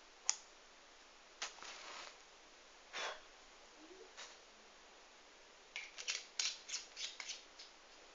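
An Exotac MatchCap match scrapes across its paper-reinforced striker with a few sharp clicks, then a brief hissing flare, followed by faint fumbling and small ticking handling noises in a quiet setting.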